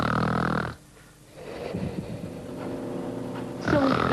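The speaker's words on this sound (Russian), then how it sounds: "Пациент громко храпит?" A patient snoring in a hospital sleep lab: a loud, rough harmonic snore at the start, a quiet gap, then a long grumbling breath that swells into another loud snore at the end.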